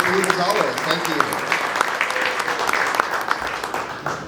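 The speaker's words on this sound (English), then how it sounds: "So for our hosts, please, a big round of applause." Audience applause for the hosts at a dinner event, a steady dense patter of many hands clapping close by for a few seconds, with faint voices mixed in.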